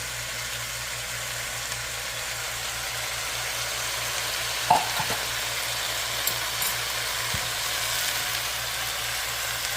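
Vegetable stew with tomatoes and potatoes simmers and sizzles quietly as fresh chives, shallot, celery, cilantro and thyme are stirred in, a steady low hiss with a couple of soft utensil knocks.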